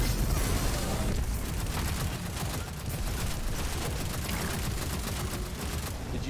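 Sustained gunfire in a video game, a dense continuous barrage of shots and booming impacts that fills the whole stretch at steady loudness with no pauses.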